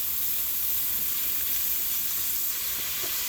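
Onion and beef base sizzling in a pan while being stirred, a continuous loud hiss with faint scraping, close and steady, with no voices.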